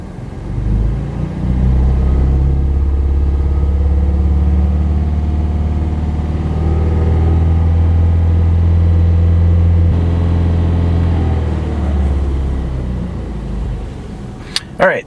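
A 2011 Ford Fiesta engine, just fitted with a new catalytic converter, is held at a fast idle of about 2,500 RPM and gives a loud, steady drone that stays constant for most of the stretch before easing off near the end.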